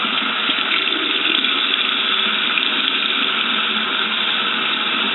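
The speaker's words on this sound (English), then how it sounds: "So this is the second time this hair is being washed." Steady running tap water pours continuously while a human hair weave is washed and conditioned, a loud, even gushing stream with no talk over it.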